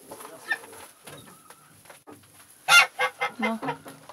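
A few geese honk and cackle nearby in frosty weather, a burst of loud calls after a quieter stretch of scattered bird noises, including chickens.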